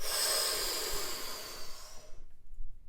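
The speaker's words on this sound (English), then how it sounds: "we're going to be breathing in through our mouth and out through our mouth the first 30 breaths" A slow breath drawn in and let out through the mouth during a somatic breathing practice, a close, airy rush that fills the first two seconds and then fades into near silence.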